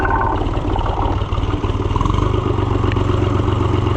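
An Oliver 1250-A tractor engine idles steadily just after starting in warm weather, a loud, close, even diesel chug with rattling clatter throughout.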